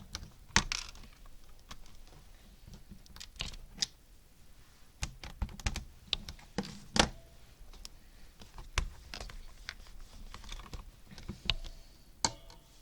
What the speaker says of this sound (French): je vais donc tamponner en rouge ma botte